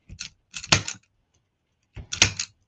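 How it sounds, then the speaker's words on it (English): Zip tie gun tightening and cutting zip ties on a spring flower wreath craft: sharp ratcheting clicks in short bursts, close and crisp, with a snap at the end of each burst. "this is a zip tie gun you can get from Amazon, so it tightens and cuts your zip ties all at once."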